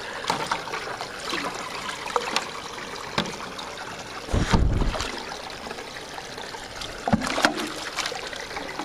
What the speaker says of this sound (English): So I need to fill this up with water.